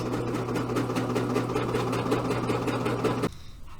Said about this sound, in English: Then I'll take it to my sewing machine and put another stronger stitch in it